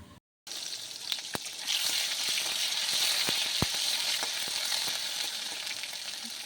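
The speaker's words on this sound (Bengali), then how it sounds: "প্রথমে টমেটোটা ভেজে নেব।" Tomato frying in a pan with a steady, close sizzle that runs throughout, punctuated by a few sharp clicks and taps as it is stirred, with no talking.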